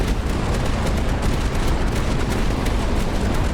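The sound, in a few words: annihilator cannon firing in Tower Dominion video game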